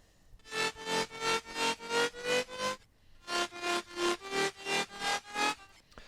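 A buzzy, saw-like synth bass from a drum and bass track plays a rhythmic line of pulsing notes in two phrases separated by a brief pause, loud and alone.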